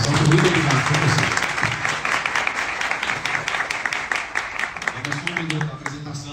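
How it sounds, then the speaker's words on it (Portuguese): Audience applause at a business gathering for entrepreneurs and association leaders in central São Paulo, a steady wash of clapping from a crowd, with someone speaking at the start and again as it tapers off. "eu queria pedir nesse início uma salva de palmas"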